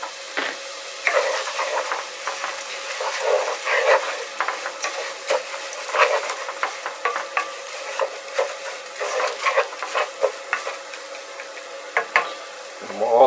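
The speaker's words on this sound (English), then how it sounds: "And we're going to toast the rice in the orzo" Rice and orzo toast in a hot pan for pilaf, stirred steadily with a utensil. Dry scraping and light crackling scratches repeat close-up and fairly loud, with no voices.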